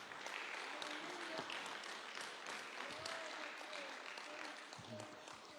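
A church congregation claps and cheers in praise during a worship service, a steady dense wash of applause that continues throughout, faint and somewhat distant, with voices mixed in.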